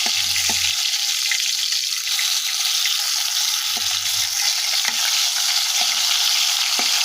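Fish fries in a pan with a steady bright hiss of sizzling oil, broken by a few soft knocks and low thuds from handling, close and with no voices.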